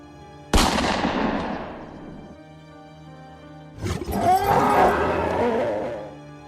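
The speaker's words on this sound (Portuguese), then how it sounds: "um estampido seco e um clarão fez com que aquilo urrasse de dor" A sharp gunshot from a reinforced .38 revolver cracks out near and loud with a long ringing tail, then after a pause a large beast lets out a drawn-out, rough roar of pain that swells and slowly fades.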